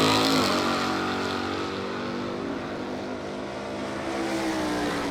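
A fuel-class drag race car from Rogers Racing makes a run down the strip at a radial tire event, a loud, steady, roaring engine with a slowly shifting tone that holds for the whole stretch without a break.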